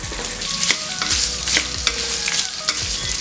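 Tamarind and other ingredients for coriander thokku fry in a pan, a continuous close sizzle punctuated by regular scraping strokes of a spatula about every half second.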